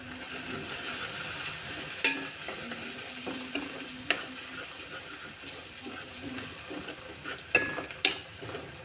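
Tomato curry fries softly in a pan, a low sizzle broken by scattered scraping and clinking as a spoon stirs it at an unhurried pace.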